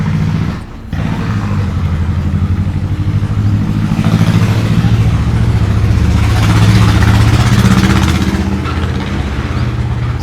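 A loud, close tractor engine runs with a steady low chugging rumble beside a pond at Jaya Kund, briefly dipping near the start and then swelling in intensity.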